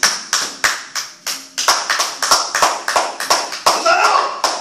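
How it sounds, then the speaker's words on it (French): A church congregation claps during a service, a run of sharp, evenly spaced claps in a steady rhythm, loud and close, with some voices mixed in. "Acclamons Jésus"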